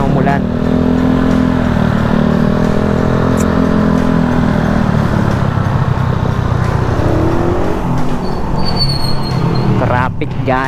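Road traffic at night while riding a Suzuki Raider 150 carb motorcycle from Bacoor to Dasmariñas, Cavite: a steady, loud engine drone with passing vehicles throughout and a brief rise near the end.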